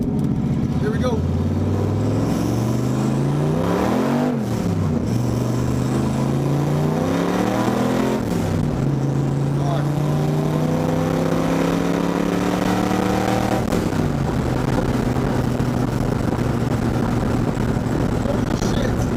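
Turbocharged Fox Body Mustang accelerating hard at a race, the engine note climbing through repeated gear changes with brief dips between shifts, loud and close, with a voice talking over it.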